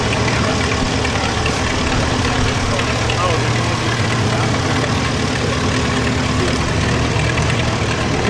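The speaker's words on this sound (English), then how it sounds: "And here comes the farm tractors." Farm tractors rolling past in a Christmas parade in Beaver Falls, a steady low diesel idle and rumble under street noise, with people talking over it.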